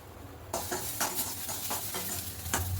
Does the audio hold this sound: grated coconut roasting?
yes